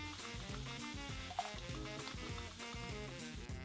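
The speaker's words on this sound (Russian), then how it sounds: "отправляем на жарку наш папоротник. Добавляем лук, жарим до золотистой корочки" Fern and onion fry in a pan, a quiet continuous sizzle with soft stirring scrapes repeating in a loose rhythm, close and low in level with no voices.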